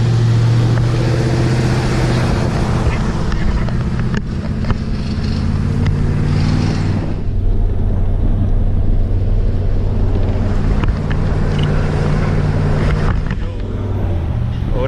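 A 1993 Ford OBS truck with a 6.0 LS engine swap and a new exhaust system drives along, giving a steady low exhaust drone mixed with road and wind noise from inside the cab.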